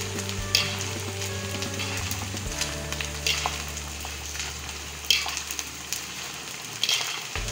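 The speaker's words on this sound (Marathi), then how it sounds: "भाभी आता डिंक तळून घेत आहेत." Edible gum fries and puffs up in hot ghee, giving a steady, close sizzle with occasional crackles and light stirring scrapes over a low background hum.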